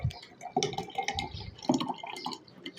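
A homemade sherbet drink is poured into a glass, giving soft splashing and trickling liquid sounds with small drips, close but faint and uneven.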